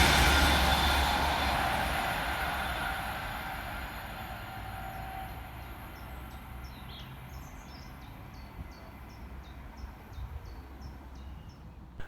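An Avanti West Coast Class 390 electric train runs through Lichfield Trent Valley station from Liverpool Lime Street toward London Euston. A loud rushing roar fades steadily as it recedes, and birds chirp faintly near the end.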